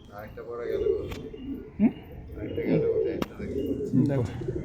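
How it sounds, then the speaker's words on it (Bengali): Madras pigeons coo softly nearby in repeated low, rolling calls, while someone talks over them. "বাহ খুব সুন্দর পায়রাটা"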